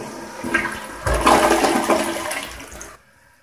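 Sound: Kohler Highline toilet regular quick flush

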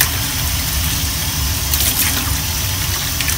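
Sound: tap water running in sink

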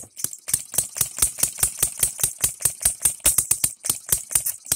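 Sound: three-stroke model gas engine from Engine DIY running

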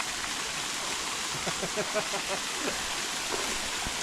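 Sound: waterfall in a forest

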